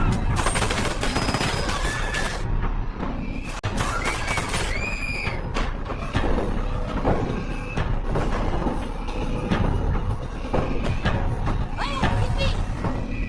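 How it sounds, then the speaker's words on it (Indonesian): A gang fires guns wildly at a club in the video game Roguey City, with dense, loud bursts of gunfire and crackling shots that continue without pause. "mereka pun langsung menyerang geng Nadal yang sedang berada di New Club dengan menembak membabi buta"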